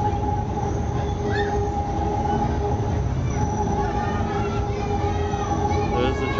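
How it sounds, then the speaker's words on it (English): A train passes close by, its wheels squealing in thin high whines over a constant heavy rumble and rail clatter, while people talk nearby. "There's the train."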